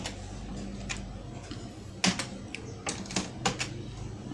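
Someone types on a computer keyboard in short, irregular bursts of soft clicks, with a louder tap now and then over a low steady room hum.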